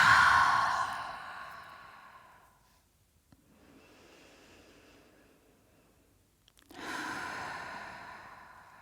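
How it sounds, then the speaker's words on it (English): A slow breathing cycle during a yoga session: a long audible exhale through the mouth fades out, a quiet inhale through the nose follows, then another breathy exhale, close to the microphone and alone. "Inhale through your nose, exhale through your mouth"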